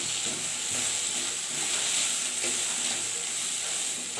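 Chili powder fries in oil in a pan over a full flame, giving a steady, loud, close sizzle with soft stirring scrapes and no voices.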